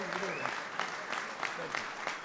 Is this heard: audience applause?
yes